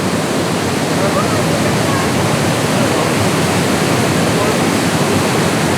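Rushing water in the Blue Mountains of Jamaica gives a steady, loud, broadband roar that fills the whole stretch without a break, with no clear voices above it.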